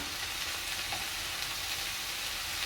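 Oyster mushrooms fry in a hot pan while being stirred, giving a loud, steady, close sizzle that runs without a break from start to finish.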